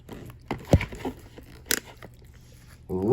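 Close, wet crunching and biting as an animal chews food, in a few irregular bursts, with a voice speaking briefly at the end.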